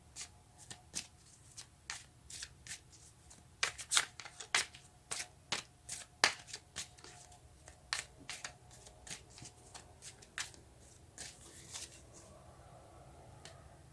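Tarot cards being shuffled in a quiet room, a long run of crisp riffling flicks and soft snaps that come in irregular bursts, with no talking over them.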